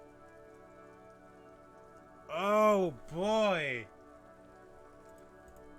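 Rain falling over the city of Revachol in the video game Disco Elysium, a faint steady patter in the background while a voice briefly exclaims over it.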